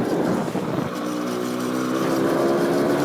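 Yamaha DT 75 motorbike, run without its fairings, riding along with a steady, buzzing engine drone and rushing wind noise, loud and close throughout.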